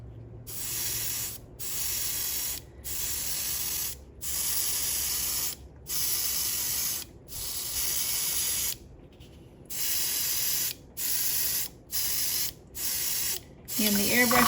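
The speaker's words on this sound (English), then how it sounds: "the airbrush I'm using is a Iwata Eclipse HBCS" An Iwata Eclipse HBCS airbrush sprays paint in repeated bursts of steady hiss, each lasting about one to two seconds and separated by short silences, heard up close with no voices.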